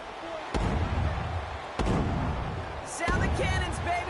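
Cannons boom after a Buccaneers win in Tampa in a Madden football video game, with three heavy, evenly spaced blasts, each followed by a rumbling tail, beneath crowd noise and commentary.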